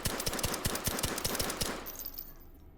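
A Ruger Mark IV Whisper pistol with an integrated suppressor fires in the VR game H3VR, about a dozen quick, evenly spaced muffled shots in a rapid string that then fade away.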